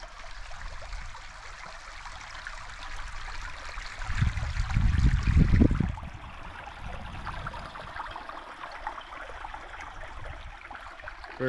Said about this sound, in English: Very pretty creek.